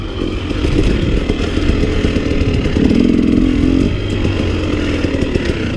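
A 2017 KTM 250 dirt bike engine revving hard while ridden, a loud buzzing two-stroke drone that climbs in pitch midway and then settles, close and steady throughout.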